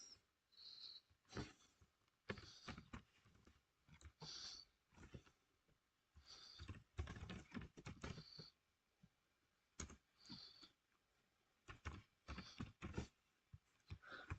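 Typing on a computer keyboard comes in scattered bursts of quick key clicks separated by quiet pauses, close and fairly soft, with no one speaking.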